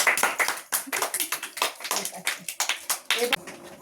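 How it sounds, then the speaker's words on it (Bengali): Children at a coaching-class student party clap together in quick, uneven bursts of applause, close and fairly loud, with voices mixed in. "সবাই হাততালি দাও"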